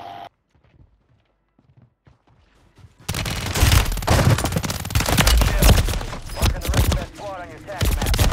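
Call of Duty Warzone gunfire from an enemy shooting down from above: near-silence, then dense rapid bursts of automatic fire and sharp shots that stay loud and close for several seconds.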